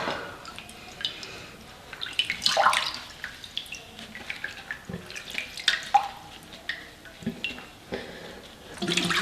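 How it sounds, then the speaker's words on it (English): Distilled water splashed from a bowl onto the face during a rinse, giving irregular close splashes and drips in a quiet room, with a few louder bursts of pouring and dripping. "now I'm gonna rinse my face"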